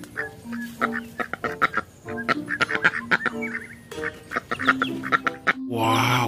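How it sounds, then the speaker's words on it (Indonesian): Ducks quacking in the dinosaur park game Jurassic World Evolution 2, repeated nasal quacks in uneven bursts, fairly close and clear, ending with a short rush of broadband noise. "Ini hewan bebek"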